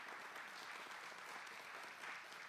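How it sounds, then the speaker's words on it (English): A church congregation applauds steadily during a worship service, a dense even wash of clapping that is fairly faint and distant throughout. "Let's just give them a round of applause"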